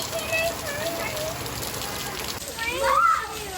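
Steady outdoor rain hisses throughout, with children's voices chattering over it as kids in mud boots and holding an umbrella head out to stomp through puddles.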